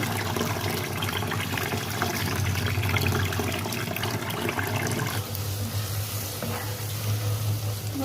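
Onion, ginger and garlic tempering in hot oil for khichuri make a steady, close sizzle and crackle throughout, with some watery splashing mixed in and no talking.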